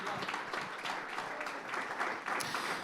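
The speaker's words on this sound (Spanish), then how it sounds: "Fuerte ese aplauso de alabanza al Señor." A congregation claps in praise at a church service, a soft, fairly even round of applause with a few brighter claps near the end.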